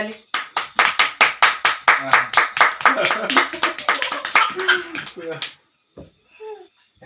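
A group claps in a quick, steady rhythm, loud and close, for about five seconds before stopping abruptly, with voices heard alongside and a few faint sounds after.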